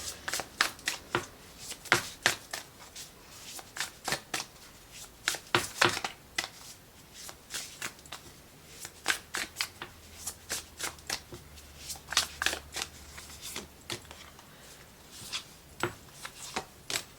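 Astro cards being shuffled by hand for a reading, with repeated crisp riffling bursts in an uneven rhythm, close and clear, and a faint low hum in between.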